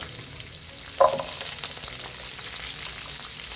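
Garlic and green chilies sautéing in a pan for rava dosai, a steady close sizzle of frying with a brief louder stir or clatter near the start, no talk.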